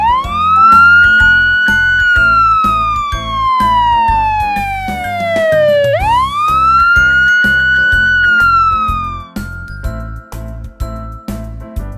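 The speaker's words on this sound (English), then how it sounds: "Police car." A wailing siren rises, slowly falls, then rises again, loud and close over a steady rhythmic backing beat.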